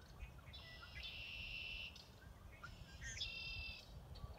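Two buzzy, trilling red-winged blackbird calls ring out in turn against a soft outdoor hiss at a nature preserve, fairly faint and distant.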